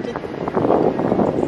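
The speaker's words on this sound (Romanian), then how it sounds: "Vine vântul la noi, mamă?" Wind gusts at the seaside rush steadily across the microphone, a rough, continuous buffeting that swells slightly louder partway through.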